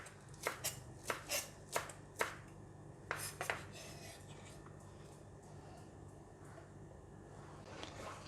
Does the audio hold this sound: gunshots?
no